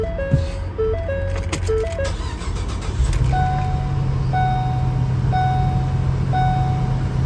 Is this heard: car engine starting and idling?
yes